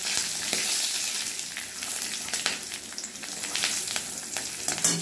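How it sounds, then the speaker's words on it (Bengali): Black cumin seeds and a green chilli tempering in hot mustard oil left from frying hilsa fish, a steady close sizzle with scattered small pops and crackles throughout, no voices. "মাছ ভাজা তেলেই এবার কালো জিরে আর একটা কাঁচা লঙ্কা ফোড়ন দিয়ে দিলাম"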